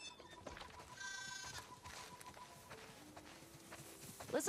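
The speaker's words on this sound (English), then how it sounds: "Listen up, sheep." Sheep bleating on a farm in The Last of Us Part II, several faint, wavering bleats among quiet ambient game sounds and light rustling, ending with a brief louder burst.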